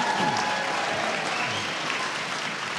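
A large audience at a spring afternoon graduation ceremony applauds baccalaureate graduates, a thick continuous roar of clapping that holds steady throughout.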